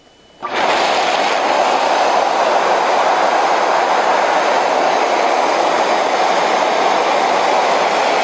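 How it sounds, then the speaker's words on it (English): A loud, steady rush of blown air starts abruptly and holds at an even roar throughout, a powerful blower continuously inflating a HoverMatt patient-transfer air mattress. "the brown button that says Hover Jack, and then the standby button"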